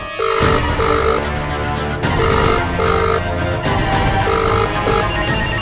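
A phone ringtone plays in a Hindi TV drama scene: a repeating electronic melody of short tonal notes cycles several times, loud and steady, with no talk over it.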